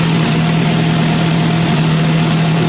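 A Mazda engine runs on a test run, a loud, steady, close drone with a constant low hum and broad roar throughout.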